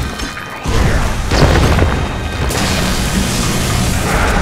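A grenade explosion in the video game Magicka: a loud crashing blast bursts in after a brief lull, followed by continuing rumbling game noise and a second heavy impact.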